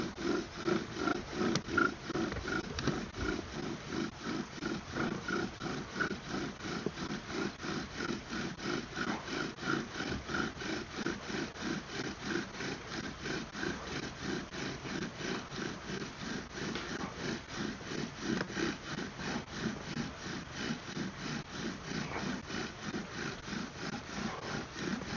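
Bow drill spindle spun in a wooden divot to make fire, giving a steady rhythmic back-and-forth squeaking rub of wood on wood, repeated fast and evenly throughout at close range with no voices.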